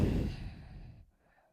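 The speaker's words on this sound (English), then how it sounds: "Exhale the breath out." A long, audible exhale during a hip-mobility yoga class, loud and breathy at first and tapering off after about a second into near silence.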